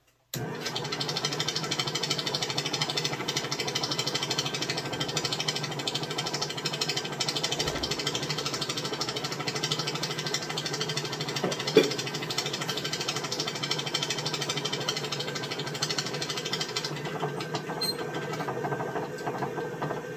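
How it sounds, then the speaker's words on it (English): A wood lathe turns a figured walnut blank on a glue block, with its unlocked tailstock rattling in a continuous fast buzzing chatter. The noise stays steady and close throughout, with one brief knock partway through. "I didn't have my tailstock locked in place. That's what was making the noise"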